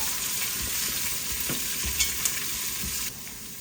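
Onions roast in salted oil in a pan over medium heat, giving a steady, close sizzle and crackle throughout, with a few soft stirring scrapes along the way and no talking.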